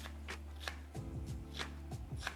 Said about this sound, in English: I'm gonna chop up my onions